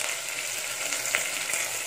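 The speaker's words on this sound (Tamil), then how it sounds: "வெங்காயம் நல்லா ஃப்ரை ஆகணும்." Onions frying in oil in a pan for a sambar, making a continuous, even close sizzle with a few brief bright spits, heard alone without speech.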